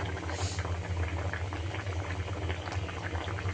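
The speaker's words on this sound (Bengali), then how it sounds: "একটু গরম পানি দিয়ে ঝোল দিয়েছি।" A steady bubbling simmer of fish curry with potato, tomato and cauliflower in a pot, continuous and close, with a low rumbling undertone throughout.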